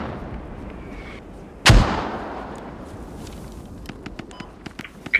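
Artillery fire in the Squad video game: a single heavy, booming round erupts near the middle and rolls off into a long decaying rumble, followed by faint scattered crackles and distant thuds.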